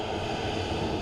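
A steady, broadband engine rumble comes from a Ryanair Boeing 737 MAX at Dublin Airport. It is heard briefly and continuously, with no voices.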